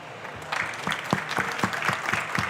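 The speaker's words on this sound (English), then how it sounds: "I'd like you to join me in applauding for our panelists." Audience at an EU Energy Day solar energy panel applauding the panelists, a steady patter of clapping hands filling the room with a few sharper claps standing out.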